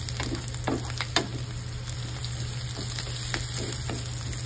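Garlic fries in a pan ahead of the shrimp, giving a steady sizzle over a low hum, broken by scattered clinks and scrapes of stirring.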